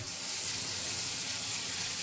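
Cold water runs from a kitchen tap under good pressure, a steady close rushing hiss that stays even throughout.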